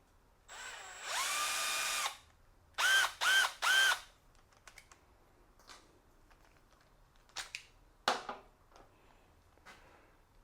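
A Milwaukee installation drill/driver gets a chuck attachment fitted, with a sustained whir, a quick series of three short motor bursts, then scattered clicks and light mechanical handling, close up and with no talking.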